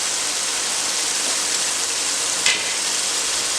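Moong dal poured into a pan of sizzling gravy: a steady, bright frying hiss runs throughout, with a brief splash and rustle as the lentils go in near the end.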